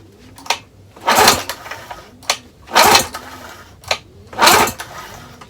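An outboard motor that won't start, with its points just cleaned, is pulled over three times by hand; each crank gives a loud mechanical whir with sharp clicks and rattles between the pulls.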